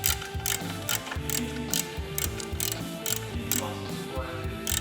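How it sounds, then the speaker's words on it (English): A ratchet turns bolts on a 1953 Harley Davidson Panhead chopper, rapid close clicking bursts repeated in quick strokes with short pauses, metallic and crisp, over faint background noise. "Luke, you can film me putting these bolts in"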